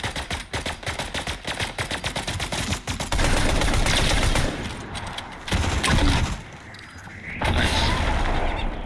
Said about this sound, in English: Damn, dude, I'm just so good at the sniper.